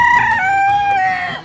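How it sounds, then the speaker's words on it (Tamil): A white hen gives a single drawn-out squawking call lasting over a second, loud and close, with a rising then gently falling pitch and no talking. "இந்த வெள்ளை கலர் கோழி"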